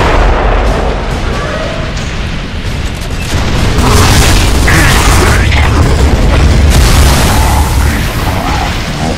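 Mortar shells burst in a Gears of War: Judgment firefight, heavy booms and rumbling blasts rolling continuously under a dense, loud battle din for the whole stretch.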